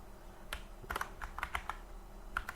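Keys clatter on a computer keyboard as a teacher's name is typed for an Arabic-language cover design, a few quick taps then a pause and another short burst, close and clear with no talking.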